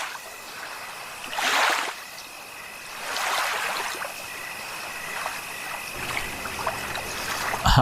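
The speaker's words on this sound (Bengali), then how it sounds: "আমি উঠতেই নৌকা ছল ছল শব্দ করে চলতে লাগলো।" A boat moves through water in a cartoon scene, with soft lapping and trickling splashes that swell in two bursts and then settle into a steady gentle wash, with no voices.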